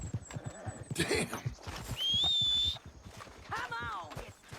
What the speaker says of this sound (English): What is my horse doing down there?